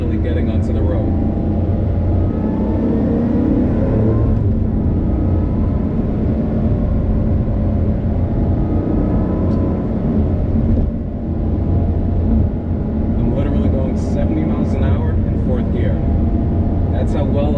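A 2020 Lotus Evora GT with a Toyota-derived engine drives at speed on city roads, a loud continuous engine drone and road roar heard from inside the car, nearly unbroken throughout.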